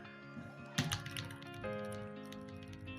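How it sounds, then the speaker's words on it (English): Arrow keys tapped on a computer keyboard during Photoshop design work, a few soft close clicks over a steady low room hum with no speech. "I'm using my arrow keys"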